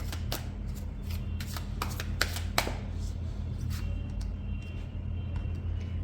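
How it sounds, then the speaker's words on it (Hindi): Tarot cards being shuffled by hand, a run of quick papery riffles and soft slaps in uneven bursts over a low steady hum, close and fairly quiet, no talk. "जब तक मैं कार्ड शफल कर रही हूँ"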